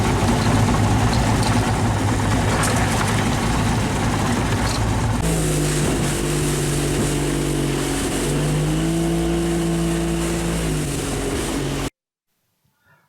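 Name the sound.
boat gasoline engine humming at sea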